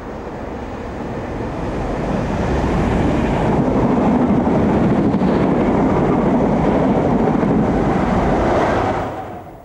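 A pair of Class 156 Sprinter diesel passenger units runs past, a broad steady rumble that swells over the first two seconds, holds loud and close, then drops away at the end.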